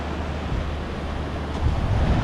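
Ocean surf rolls onto a beach on North Island in the Seychelles, a steady broad wash of waves mixed with wind rumble on the microphone, loud and continuous with no voices.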